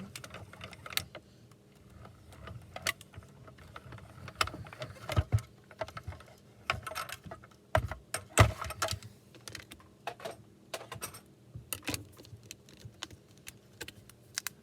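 A manual die-cutting machine cranked by hand with a small stitched-shape die over a card sentiment, giving a steady run of clicking, ratcheting mechanical sounds with irregular sharper clacks, close and moderately loud.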